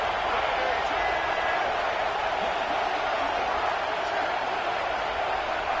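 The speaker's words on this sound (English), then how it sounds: "Listen to this crowd just shaking the girders of this place" A stadium crowd roars at a college football game between Oklahoma State and Kansas State, a dense, steady wall of noise that fills the whole stretch with no break.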